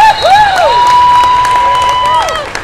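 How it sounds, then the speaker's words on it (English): A home crowd at a 17u girls' 2A championship basketball game cheers and applauds for the South Wake Sabres during free throws, a loud sustained roar with a referee's whistle-like tone cutting through. "Sabres crowd showing some love here"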